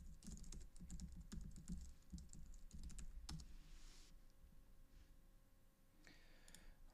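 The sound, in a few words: typing a password on a computer keyboard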